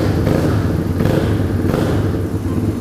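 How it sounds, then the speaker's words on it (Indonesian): A Honda Beat automatic scooter with an open exhaust starts up and idles, a loud, steady, rough engine drone with faint thumps. "Kita coba hidupin mesinnya, gimana sih suaranya?"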